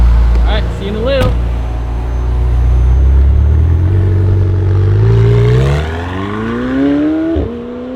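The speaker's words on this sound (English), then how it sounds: "720S flyby is coming up." A McLaren 720S twin-turbo V8 supercar builds from a low rumble into a rising, accelerating engine note as it approaches, with a sharp gear change near the end, loud and close.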